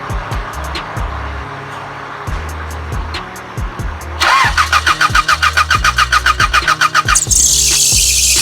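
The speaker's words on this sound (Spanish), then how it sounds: "Vamos a encender el vehículo ahora." A car engine cranks and fires up after treatment of a squealing drive belt, the starter whirring in a fast rhythmic burst before the motor catches and settles into a steady, close idle.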